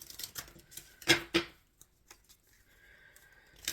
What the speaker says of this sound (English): shuffling for the concluding message for Libras